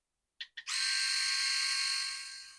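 An ENCHEN Blackstone-3 budget electric shaver clicks twice, then switches on and runs with a loud, steady, close buzzing whine that holds to the end.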